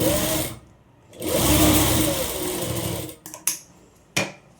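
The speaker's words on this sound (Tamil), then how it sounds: "இந்த மாதிரி ஒரு 1/2 இன்ச்சு மடித்து டாப் ஸ்டிச் போட்டுகிட்டே வரோம்." A sewing machine top-stitches a folded half-inch hem on a one-piece umbrella frock, running in two steady bursts of motor whir with brief pauses and a few clicks near the end, fairly close and alone.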